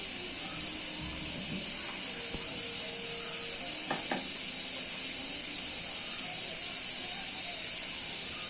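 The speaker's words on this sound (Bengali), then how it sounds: "এগুলো তেলে পরে দিয়ে দিচ্ছি জিরা বাটা" Cumin paste sizzling in hot oil with cardamom and cinnamon, a steady faint hiss and crackle throughout, with a couple of brief sharper clinks near the middle.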